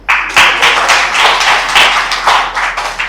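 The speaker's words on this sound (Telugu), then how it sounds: "ఇప్పుడు క్లాప్స్ కొట్టండి." An audience at a talk claps, a burst of many hands rising and swelling in uneven waves, fairly loud and close, with a low electrical hum underneath.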